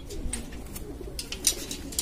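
Pigeons on a rooftop loft coo softly and flutter in brief scattered calls, faint and close, with no voices over them.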